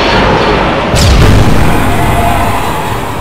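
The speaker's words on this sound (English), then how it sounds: "All batteries fire on the Great Dragon." Weapon batteries fire in a sci-fi audio drama battle: a loud deep boom bursts out about a second in, then a rumbling blast sound rolls on over a dense, roaring background.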